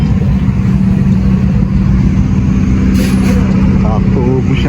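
A car engine idles loudly with the air conditioning running, giving a dense, steady low rumble and whir close by, with a brief hiss partway through.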